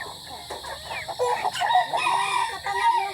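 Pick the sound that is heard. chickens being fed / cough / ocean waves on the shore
chickens being fed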